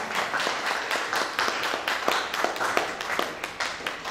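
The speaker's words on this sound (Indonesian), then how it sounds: "Tepuk tangan untuk kita semua ya." An audience at a lecture on work culture claps at a moderate distance, rather faint, with individual hand claps standing out in an irregular patter.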